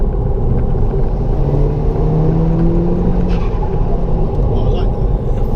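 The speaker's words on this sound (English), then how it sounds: "I like that kind of like wastegate flow there" Steady turbo whoosh and engine rumble from a Revo-tuned Mk5 Golf GTI with a hybrid S3 turbo making 350 horsepower, heard close and loud throughout, with a voice faintly underneath.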